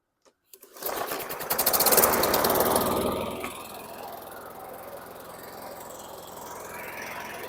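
A lawn mower engine is pull-started, coughs and catches, then revs up loud and close for a couple of seconds before settling into a steadier, quieter idle.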